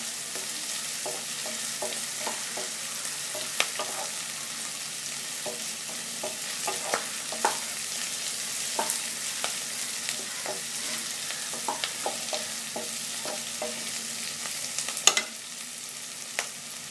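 Onion and tomato sizzle steadily in a pan as a spoon stirs them, tapping and scraping in a loose, repeated rhythm throughout, with one louder knock near the end.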